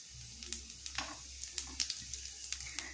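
Whole cumin seeds crackle in hot frying oil as a tempering for an egg do-pyaza, with a steady close sizzle and many small sharp pops scattered throughout.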